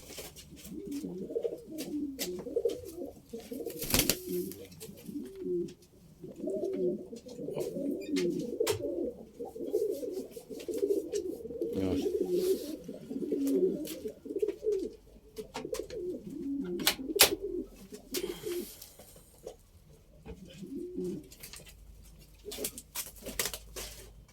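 Pigeons kept by a longtime fancier cooing in repeated low, throaty phrases, several birds close by, with light rustling, wing flutters and occasional sharp clicks.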